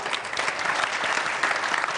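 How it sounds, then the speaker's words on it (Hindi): Audience applause at a Holi celebration with poets, steady dense clapping throughout with no talk over it. "जोरदार तालियां"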